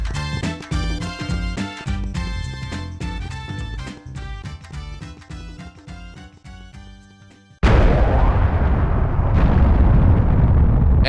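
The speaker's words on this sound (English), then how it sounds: "And his house just exploded." A house blowing up in the Nintendo 64 game Mystical Ninja Starring Goemon: after a stretch of tonal game music, a sudden loud, sustained explosive roar bursts in and rumbles on to the end.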